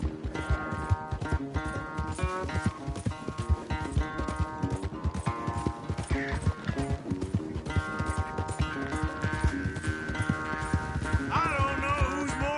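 Rhythmic hoofbeats of a horse galloping in a race in Red Dead Redemption II, steady fast clip-clop under swelling orchestral music, continuous throughout with a brief whinny.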